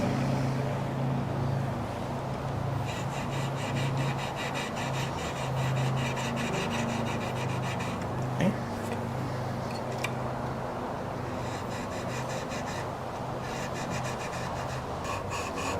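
Fret dressing on a Collings acoustic guitar: steady, close rubbing and rasping strokes in repeated bursts over a low background hum, with no talking.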